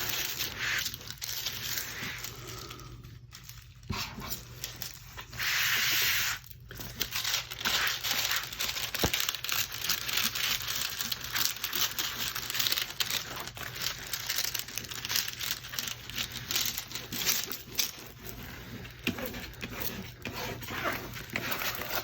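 Plastic packaging crinkles and rustles continuously while a box is unpacked, a close, busy rustling that carries on for about twenty seconds with brief pauses and no speech.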